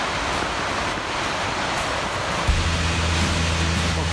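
Steady rushing roar of falling water, a dense even wash of noise, with a low hum joining in partway through.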